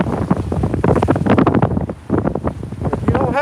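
Choppy water slaps and splashes around a boat under heavy gusting wind that buffets the microphone, loud and close throughout, with no talk.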